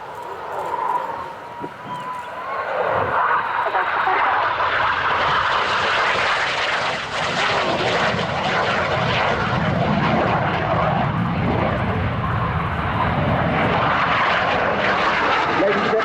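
Red Arrows BAE Systems Hawk T1 jets roar past during the synchro pair's final display manoeuvre at an air show, a loud swelling jet rush that builds and holds, heard from the crowd line.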